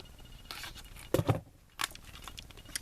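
Scissors snip and rustle through packaging at close range: a few quiet scraping cuts, then two sharper crunchy snips and one more cut, all faint with no talking.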